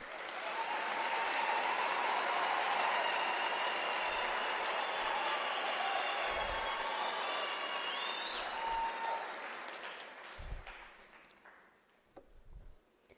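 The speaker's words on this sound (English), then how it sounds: "I believe the graduates deserve a full round of applause" A graduation ceremony audience gives the graduates a long, full round of applause, a dense sustained wash of clapping that holds steady for about ten seconds, then thins out and tapers away into scattered claps.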